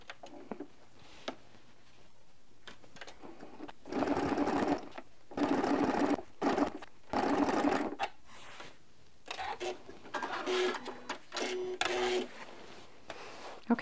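A sewing machine runs in several bursts while stitching crosshatch quilting guided by rulers, a rapid mechanical whir starting and stopping with pauses between, interspersed with small clicks and handling noises.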